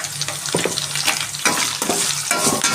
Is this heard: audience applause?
no